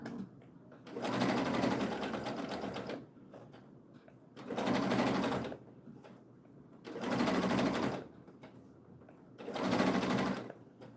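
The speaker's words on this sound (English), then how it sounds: "I'm doing it in spurts because I want to manage how I'm feeding this fabric underneath the presser foot" A sewing machine stitches fabric fed under the presser foot in four short spurts, each a few seconds of steady, close whirring with quiet pauses between.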